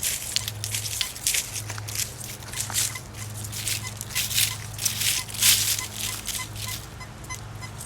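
A metal detector passes over a silver dime buried eight inches deep, sounding soft, brief tones in a loose rhythm amid brushing coil sweeps and a low steady hum.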